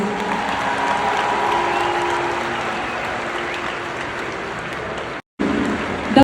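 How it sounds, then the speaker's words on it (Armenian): Audience applause for a singer's band, a continuous dense clapping from a large crowd, loud and even, briefly cutting out near the end before resuming. "եկեք բարձր ծափը արեք"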